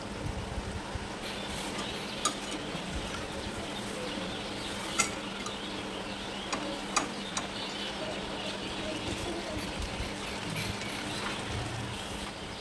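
Potato fingers fry in hot oil, a soft continuous bubbling sizzle punctuated by occasional faint clicks and taps of a utensil against the pan, fairly quiet and close with no talking.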